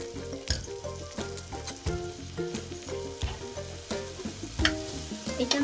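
Paneer tikka masala mixture roasting in oil in a pan, a steady sizzle and crackle broken by repeated scraping and stirring knocks from a spoon, close and continuous with no voices.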